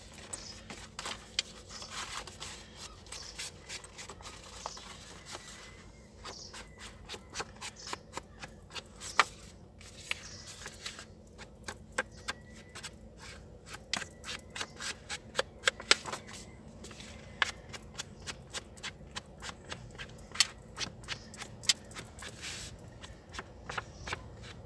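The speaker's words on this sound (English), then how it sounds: "So I'm going to fold it over and ink up all these edges now." A paper envelope is folded and its edges inked by hand: quiet, close paper rustling with scattered soft taps and crinkles, irregular and unhurried.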